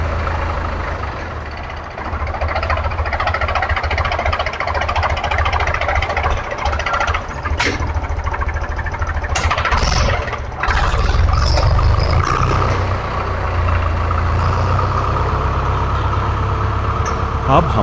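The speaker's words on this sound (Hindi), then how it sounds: "अब हमारा ट्रैक्टर गांव की सड़क पर चल रहा है।" A Mahindra tractor driving along a village road, its diesel engine chugging steadily and loud up close with a deep low rumble, while people talk over it.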